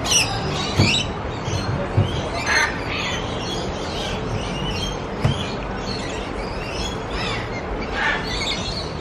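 Lorikeets in the Lorikeet Landing aviary at Busch Gardens Tampa let out repeated harsh, shrill squawks in uneven bursts, some close and loud, over a busy background of chattering birds, with no talking.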